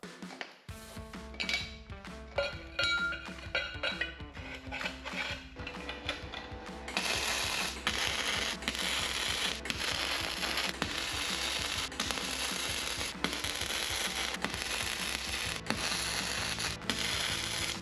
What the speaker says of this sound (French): On va souder maintenant cette pièce-là sur l'arbre de transmission